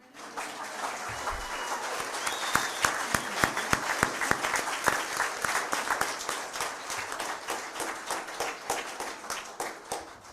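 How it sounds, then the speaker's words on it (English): Audience applause at a local candidates debate in North Mason, a dense, steady wash of many hands clapping close by for the full length, with a few sharper claps standing out. "now you can applaud with abandon."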